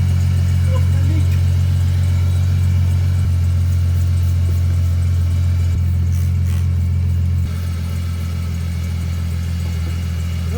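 A Toyota 2JZ-swapped Subaru BRZ-type car idles steadily through a newly installed HKS exhaust, with a deep, even low rumble, running continuously and close by with no revving.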